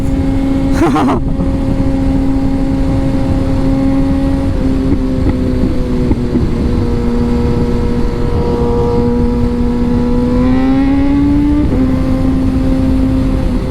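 Kawasaki ZX6R sport motorcycle accelerating to nearly 100 while riding with a group: a loud, steady engine drone that shifts pitch at several gear changes, heavily overlaid with rushing wind noise.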